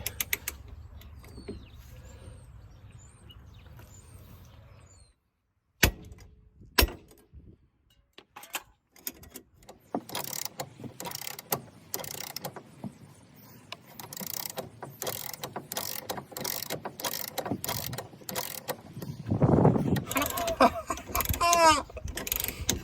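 Impact tool rattling in repeated bursts against a seized, oiled wheel hub bolt on a Ford Focus MK2 front axle, loud ratcheting hammering with brief pauses and mechanical clanks, no talking.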